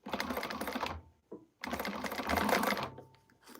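A sewing machine stitches a quilt in two fast, close bursts of rapid mechanical clatter with a short pause between them, followed by a quieter tail of lighter tapping.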